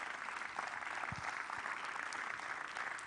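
An audience at a church-hosted career fair applauds in a steady patter of clapping, moderately distant and fairly soft, with no voices standing out.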